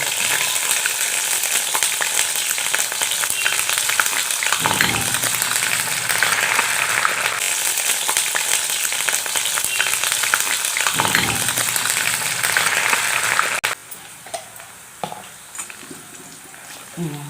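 Ginger garlic paste fries in hot oil for an amla pickle, a loud continuous sizzle that holds steady, then drops sharply to quieter crackles near the end, with a voice speaking over it.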